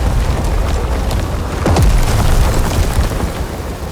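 Storm on a rain-lashed planet in Star Wars Jedi: Survivor: a constant dense roar of heavy rain and wind, with a deep rumbling thunder swell near the middle that booms loud and then rolls back into the downpour.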